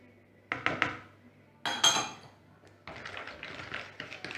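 Egg yolks, sugar and vanilla sugar being mixed in a bowl for tiramisu, with a few sharp clinks and knocks of a utensil against the bowl, then steadier scraping and tapping, close by with no talk.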